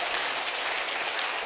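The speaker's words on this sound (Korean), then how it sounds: "우리 세 분을 위해서 다시 한번 뜨거운 박수를 좀 해주실까요?" Warm applause from a church congregation during a Sunday service, dense continuous clapping filling the hall for a brief moment without any voices.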